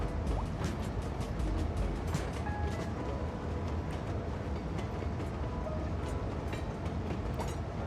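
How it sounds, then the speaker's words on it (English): Train runs along tracks in a video game, a dense continuous rumble with a rapid clattering texture and occasional sharp clicks, steady and fairly loud throughout. "some of these train tracks are like this. It should derail right about here."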